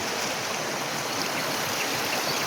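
A creek swollen and running high after rain, its water rushing in a steady, loud broadband roar that fills the whole stretch without a break.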